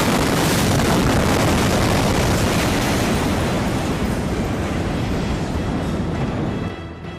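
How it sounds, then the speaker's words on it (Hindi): A massive blast in Beirut, caught during an outdoor wedding photo shoot, fills the air with a loud, sustained roaring rumble for several seconds before abruptly falling away at the end. "लेकिन तभी धमाका हो गया"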